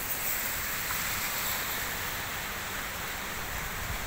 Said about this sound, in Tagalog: Pero sa kasalukuyan po malakas naman po ang hangin.